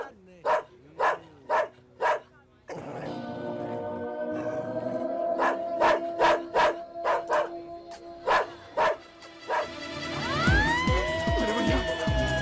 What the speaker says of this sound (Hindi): अरे भैया किसका कुत्ता है ये?